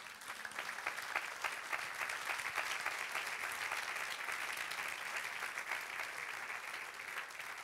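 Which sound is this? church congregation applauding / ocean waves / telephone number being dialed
church congregation applauding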